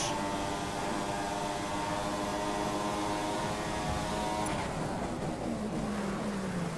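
Formula 1 race car engines in F1 2015 on the China circuit, a steady high-pitched whine of several cars at full throttle that drops sharply in pitch near the end as one brakes.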